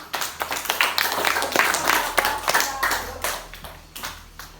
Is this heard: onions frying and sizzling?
no